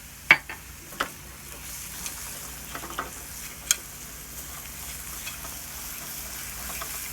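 Garlic frying in oil for garlic chutney, stirred in a pan: a few sharp utensil clicks and scrapes early on over a steady, close sizzle that continues to the end, with no talking.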